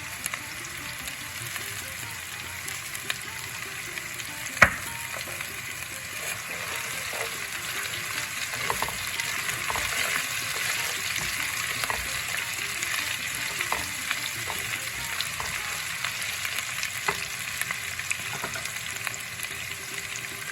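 Dry curry leaves fry in hot oil with onion in a pan, giving a steady, even sizzle with occasional soft clicks and one sharp tap from the pan.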